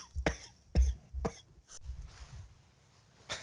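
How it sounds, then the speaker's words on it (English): A coughing fit from a podcast host during a design portfolio discussion: several sharp, close coughs in a quick cluster, a pause, then one more cough, loud against a quiet room. "I just got a coughing attack."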